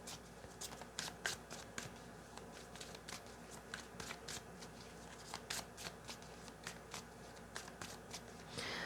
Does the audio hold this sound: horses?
no